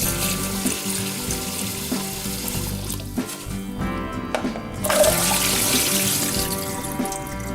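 Cracked black walnuts are rinsed in a sink under a running tap, a continuous rush of water with clattering swirls and a louder surge near the end, no voices.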